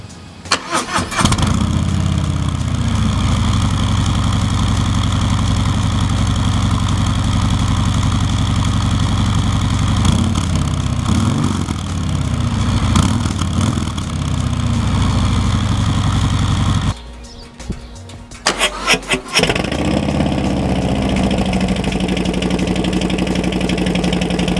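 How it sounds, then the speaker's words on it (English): A Harley-Davidson Sport Glide with its stock exhaust starts up and settles into a loud, lumpy idle, rumbling steadily close by, briefly cutting out and restarting partway through, with no talk. "let's listen to a sound test before"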